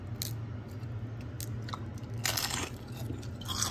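Crisp crunching and chewing from biting into homemade lumpia Shanghai, several sharp crunchy bursts close to the mic over a low steady background hum, with no talking.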